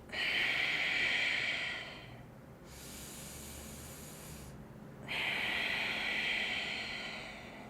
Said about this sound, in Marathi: आणि पूर्ण श्वास सोडायचा आहे